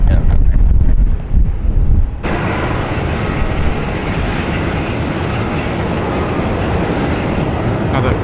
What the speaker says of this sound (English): Another Qantas A330-300 departed